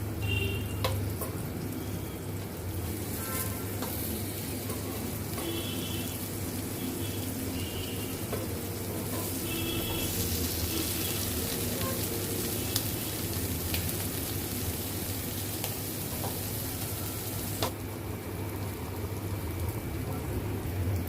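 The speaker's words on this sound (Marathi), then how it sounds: "आता आपल्याला पाच मिनटं एक साईड आणि पाच मिनटं दुसरी साईड अशी परतून घ्यायचं आहे" Prawns frying in a pan, a continuous even sizzle with occasional faint crackles that stays steady and close throughout.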